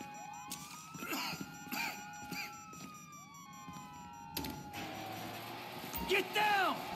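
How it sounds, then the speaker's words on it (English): Sirens from police cars in Grand Theft Auto V wail with rising and falling tones, overlapping one another, while voices talk loudly over them; the scene sounds busy and close. "Hear that? Sirens!"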